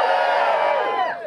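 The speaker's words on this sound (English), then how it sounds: "That was quite a mid-afternoon cheer." Crowd at a live Frank Turner in-store gig at HMV London lets out a loud, sustained whooping cheer that fades after about a second.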